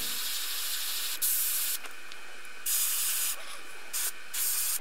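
Airbrush spray painting a perch pattern onto a fishing lure, darkening the back: four loud hissing bursts of about half a second each, separated by short pauses with a faint steady background hiss, no talk.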